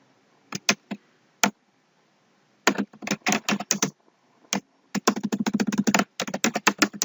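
Keystrokes on a computer keyboard as a headline is typed into Google Ads: quick close clicks in short clusters, then pauses, then a longer steady run of rapid typing, with no talking.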